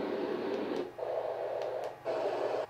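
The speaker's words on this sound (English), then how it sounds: "So it makes white noise for you to sleep much easier." A mini portable white noise machine plays a steady hiss that cycles through short sound settings, with brief shifts in tone between steady bursts. Faint and close, with no voices.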